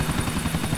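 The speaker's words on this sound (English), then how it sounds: "I just said we have no specs, so the helicopter should spawn" A helicopter in the video game GTA IV gives off a short burst of steady rotor chop, moderately loud and heard alone.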